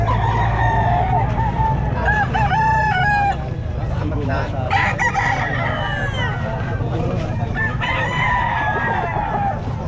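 A Sweater gamefowl rooster crows repeatedly, loud and close, amid the dense chatter and bustle of a crowded pet market, with people talking throughout.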